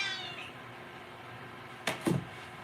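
A house cat gives a short, faint meow near the start, then a louder, closer rising-and-falling meow about two seconds later in an otherwise quiet room.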